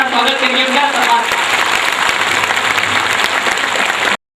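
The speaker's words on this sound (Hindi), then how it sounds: "सभी तालियां बजाकर गड़गड़ाहट के साथ स्वागत करिए उनका।" An audience gives thunderous applause of welcome at a religious gathering honoring a revered spiritual figure, dense clapping with some voices mixed in, loud and steady before cutting off abruptly.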